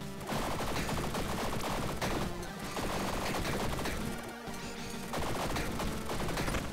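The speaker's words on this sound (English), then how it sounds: "Triple A machine gun just brute forcing is putting out a lot of damage." Rapid automatic gunfire from a machine gun in the roguelike game Tiny Rogues, a dense continuous rattle of shots with impact crashes, sustained for several seconds with only brief breaks.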